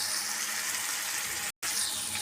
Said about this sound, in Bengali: আমি এখন দিয়ে দিব পানি।